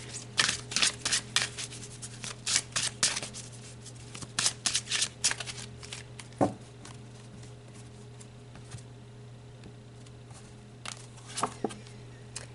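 Tarot cards being shuffled in quick bursts of riffling and flicking, close and crisp, with pauses between bursts and a low steady hum in the background, ending with a few scattered card flicks.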